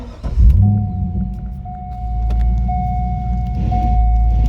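A C5 Corvette engine starts and settles into a steady, close, low rumbling idle, with a thin, sustained electronic chime tone running over it throughout.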